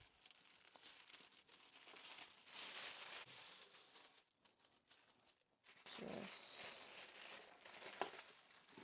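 Packing paper is crumpled and crinkled by hand for a soap order, close, quiet rustling bursts with short pauses between handfuls.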